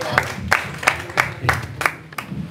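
Rhythmic clapping comes from a comedy show audience at a politician mimicry act, about seven sharp, evenly spaced claps in unison over a low murmur.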